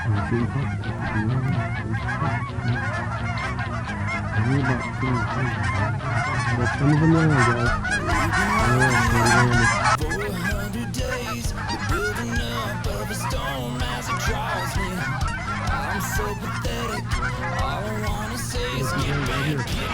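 A flock of geese honks repeatedly at close range over a water hunt in Colorado, the calls dense and continuous with a louder burst midway, while voices chatter underneath.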